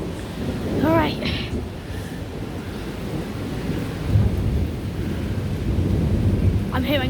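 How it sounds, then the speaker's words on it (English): A heavy thunderstorm with constant low rumbling thunder and steady rain hissing throughout, a louder roll near the middle, while a person speaks briefly at the start and end. "I'm hearing constant rumbling. The rain's picking up slightly."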